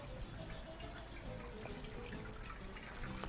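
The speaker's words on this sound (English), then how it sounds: "Begin your process by adding some water to a pan." Water runs steadily into a cooking pan for a homemade chilli, beef curry and rice dinner, a soft continuous pour and trickle heard close and alone.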